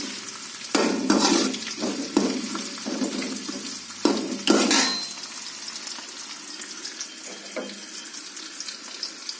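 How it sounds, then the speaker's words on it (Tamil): Dried red chili, curry leaves and onion sauté in a pan with a bright sizzle, punctuated by several loud stirring scrapes early on before easing to a quieter, steady frying hiss. "ஒரே ஒரு வரமிளகாய், கொஞ்சம் கறிவேப்பிலை, பெரிய வெங்காயம் போட்டு வணக்கி விட்ருக்கேன்"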